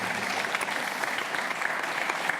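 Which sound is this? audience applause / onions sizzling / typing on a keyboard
audience applause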